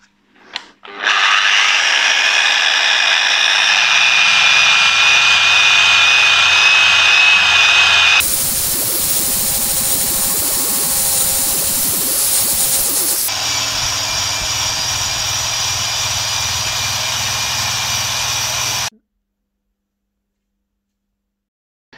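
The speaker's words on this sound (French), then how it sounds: "Ici en l'occurrence, on utilise un disque fibre." Fibre disc on an angle grinder cleaning a stainless steel weld, a loud steady high whine that runs about eighteen seconds, its tone shifting midway as the disc bites the metal, then stops abruptly.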